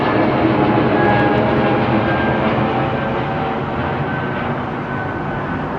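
A jet taking off from Heathrow runway 09R, a loud, broad, steady roar that fades slightly as the aircraft climbs away.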